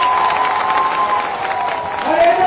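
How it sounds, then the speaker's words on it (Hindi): Crowd at a BJP Jan Ashirwad Yatra rally in Dimani, Morena district, clapping and cheering loudly and steadily, with shouts mixed into the dense applause throughout. "यहां से मुझे दिल्ली की ताली चाहिए"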